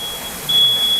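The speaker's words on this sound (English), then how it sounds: "this is why the alarm's going off" A smoke alarm beeps in a steady high tone while a tomahawk steak is cooked in a kitchen, the signal sounding alone and growing louder partway through.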